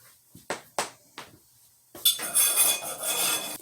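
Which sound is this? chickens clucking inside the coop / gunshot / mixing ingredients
mixing ingredients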